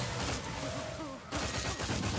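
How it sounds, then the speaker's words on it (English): Area-effect explosion rounds fire in the Outer Worlds 2 video game, producing a dense burst of rapid shots and blasts, with a pause and then more firing. Voices sound faintly underneath. "The AoE explosion rounds."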